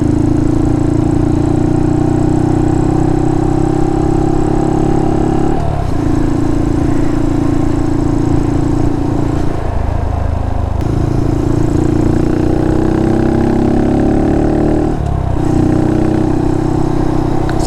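A Honda Monkey motorcycle with a Termignoni exhaust pulling gently up through the gears, the loud, close engine note rising steadily and then dropping at each of several shifts, with no voices.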